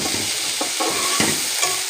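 Bitter gourd frying in a pan while being stirred, scraping utensil strokes over a constant close sizzle, with no voices.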